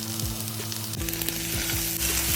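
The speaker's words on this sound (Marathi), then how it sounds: "हे पण सर्व मस्त थोडंसं तेल घालून भाजून घेणार आहे असा गोल्डन ब्राऊन होईपर्यंत" Masala ingredients roast in a little oil in a pan, giving a steady close sizzle with soft scraping strokes as they are stirred, and no speech.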